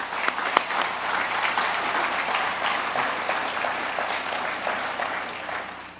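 An audience at a business announcement in Cape Canaveral gives sustained applause, the dense clapping holding steady throughout before starting to fade at the very end.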